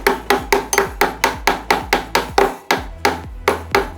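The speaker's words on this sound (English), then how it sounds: "get the bolt, set it in, and the mallet." A mallet taps a bolt into place during assembly of a Stark Varg EX electric motorcycle, producing about fifteen sharp, evenly spaced knocks close by, loud and alone.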